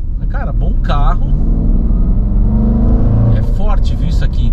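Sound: Jaguar F-Pace SVR engine accelerating

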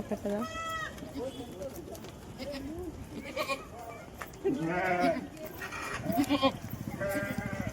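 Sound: sheep and goats bleating

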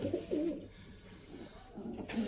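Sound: flying pigeons cooing

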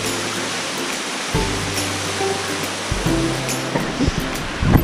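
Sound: waterfall

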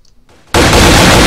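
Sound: minigun firing in Happy Wheels video game

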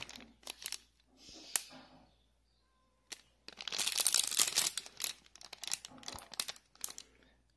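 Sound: watch taken out of small plastic bag

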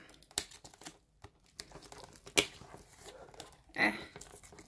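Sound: peeling covering off acrylic-poured toilet seat

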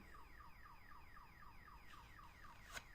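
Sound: car alarm going off outside the window

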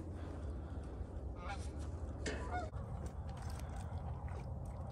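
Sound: geese honking

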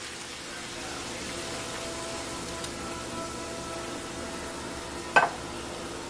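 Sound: canned diced tomatoes with chillies added to a sizzling pan

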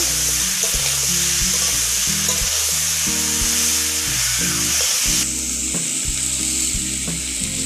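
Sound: stirring ginger and cumin paste into frying pumpkin greens

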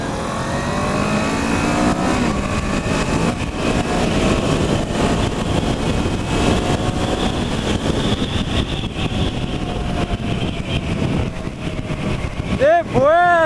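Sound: Kawasaki Versys 650 motorcycle engine while riding

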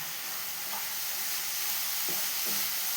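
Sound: stirring coconut and cardamom sugar mixture in a pan

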